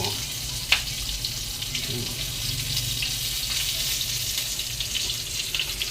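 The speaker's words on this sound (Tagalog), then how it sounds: "Ayan prito." Fish sizzles steadily in hot oil in a frying pan, a continuous bright crackle with a sharp pop near the start.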